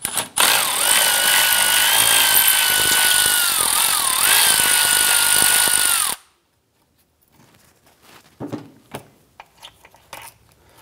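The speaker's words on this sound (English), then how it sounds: "Go ahead and use a 10mm socket and remove this bolt." A power tool whirs loudly and steadily for about six seconds while removing a bolt with a 10mm socket on a 2004-2008 Acura TL, then stops, leaving soft metallic clicks and handling noises.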